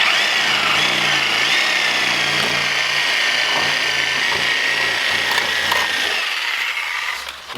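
A power tool fitted with a jigsaw blade cuts through a car bumper, a steady high buzzing whine that holds for several seconds up close and then tapers off near the end.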